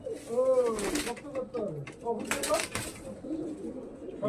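Domestic fancy pigeons, including Madras and Andhra breeds, coo in a cage with repeated soft rolling calls, close by, while a person talks over them.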